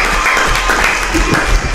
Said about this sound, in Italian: Un applauso alla popolarità spontanea